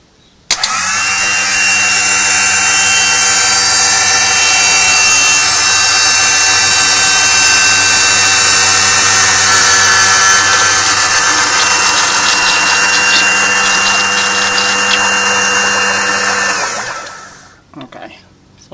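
An HWH hydraulic pump running and pumping oil, a loud steady mechanical whine and hum sustained for about sixteen seconds before winding down and stopping.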